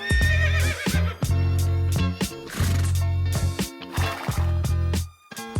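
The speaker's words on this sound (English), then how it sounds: "Some horses." Horses neighing during a walk past sunflowers, mushrooms and a tunnel near the Hudson River, with repeated loud whinnies and snorts across the clip and steady low background sound.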